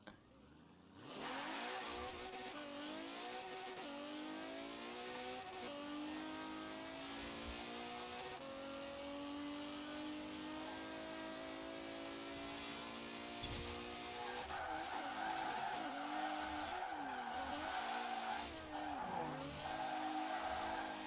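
A Mercedes E63s in the video game Forza Horizon 4 drifts with a long, continuous tire squeal over a rising and falling engine whine that swells louder and shifts pitch partway through.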